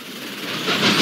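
A train runs in a Roblox Thomas & Friends game as a smooth rushing rumble with a hissing edge, swelling slightly louder as it draws near.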